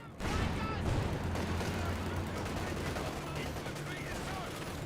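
Anti-tank gunfire from ZiS guns strikes a Panzer IV in Company of Heroes 2, a dense continuous battle din of rapid shots and impacts at a steady moderate level, with faint voice in the mix.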